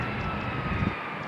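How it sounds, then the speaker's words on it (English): A jet airplane taking off, heard as a steady broadband roar that stays loud and even throughout with no talk over it. "There's a jet taking off"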